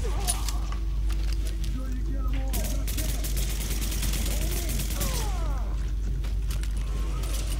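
Gunfire from the shooter game Tom Clancy's The Division during a subway morgue mission, with bursts and scattered shots ringing through a steady rumbling background while a voice talks over the action.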